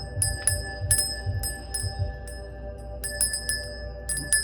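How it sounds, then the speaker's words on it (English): A small bell rung to cleanse tarot cards gives repeated clear, ringing strikes in uneven bursts, with a quiet low rumble beneath and no talk. "So I'm gonna go ahead and ring the bell."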